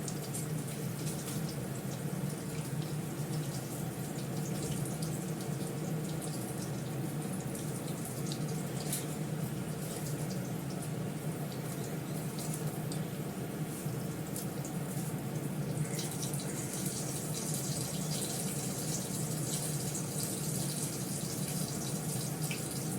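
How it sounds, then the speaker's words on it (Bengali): Tap water runs steadily over a peeled onion being rinsed in a kitchen sink, a continuous close splashing hiss that holds without a break throughout. "পেঁয়াজের খোসাটা ছাড়িয়ে ধুয়ে নেব।"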